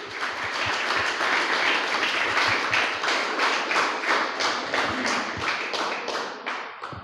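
A church congregation claps loudly and steadily for the Lord, a dense, continuous wash of many hands that holds for the full length and tapers slightly at the end.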